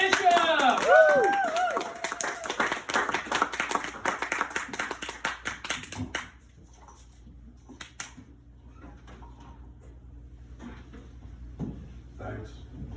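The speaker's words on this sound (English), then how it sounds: "Let's get those claps going, everybody, for Sean Bishop." A comedy-club audience bursts into clapping and whoops for a comedian, loud and crowded for the first six seconds, then fades to scattered claps and quiet room noise.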